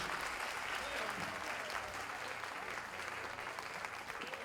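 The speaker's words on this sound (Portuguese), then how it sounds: "Uma salva de palmas ao Instituto Federal do Ceará pelo que realiza pelo povo cearense." An audience at an Instituto Federal do Ceará ceremony, held to reappoint the rector and swear in directors, breaks into sustained applause, a dense, even clapping that lasts throughout.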